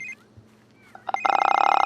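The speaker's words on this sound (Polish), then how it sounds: "odbierz telefon" A telephone in The Sims 3 starts ringing after a few quiet soft game noises, its bright electronic trill pulsing rapidly and loud for the final stretch.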